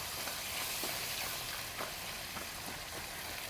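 A prawn pickle with squeezed lemon juice is stirred in a pot. The stirring gives off a continuous wet, sizzling hiss, with a few soft scraping strokes rising above it, close and steady.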